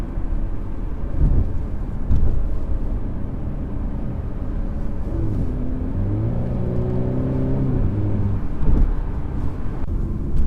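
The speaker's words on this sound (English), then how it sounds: "with a rasp from the exhaust on upshifts" A 2017 Mercedes E300 on the road, its engine droning steadily with rising tones that step up and drop as it shifts, a rough exhaust note under continuous road and wind rumble.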